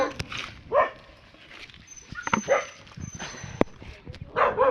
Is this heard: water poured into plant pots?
no